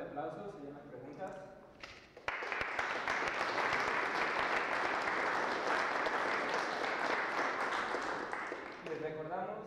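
A lecture audience breaks into sustained applause after a talk on cosmic-ray physics, following a brief stretch of a voice speaking; the clapping is loud and steady, then voices return near the end.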